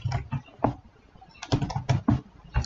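Typing on a computer keyboard, a quick irregular run of close key taps in clusters with a brief lull, no talking.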